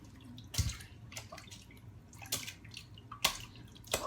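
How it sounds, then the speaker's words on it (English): Water sloshes and splashes in a sink in several sharp bursts as potatoes are washed, over a quiet running-water background, close by. "Whoa, splashing."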